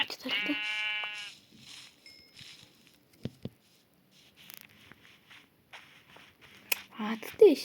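Sheep bleating in Minecraft, a single near wavering bleat at the start followed by quiet in-game footsteps and shuffling sounds, with a voice talking in the background.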